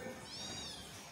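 A cat at a farm house gives a single short meow, faint and somewhat distant against quiet background noise.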